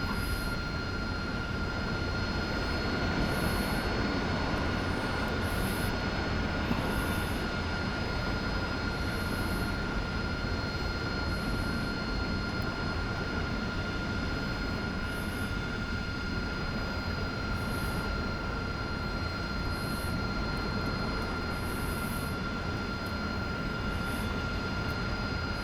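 Several aircraft idling and taxiing into line on a runway before takeoff in the DCS flight simulator, a steady, loud engine roar with a constant whine holding throughout, no one speaking.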